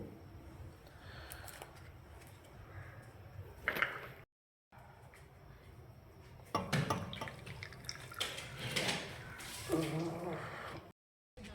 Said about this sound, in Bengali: এখন গুড় অল্প একটু নিয়ে তারপরে চা ঢেলে খেয়ে নেবো।